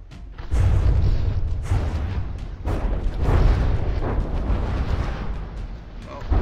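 Repeated heavy booms and shell impacts from naval combat in the video game From the Depths, a dense, loud barrage of overlapping explosions rolling on throughout with brief dips between volleys.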